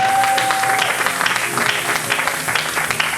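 A church congregation at a French-language sermon claps and cheers together, a dense, steady wave of applause that fills the room with scattered voices acclaiming underneath.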